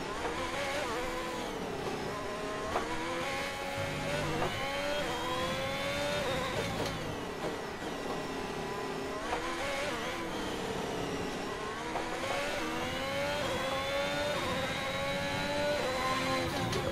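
Formula 1 car engines in the racing video game F1 2021 scream at high revs, rising and falling sharply with repeated gear shifts. The engines are loud and close, and other cars whine in the background throughout.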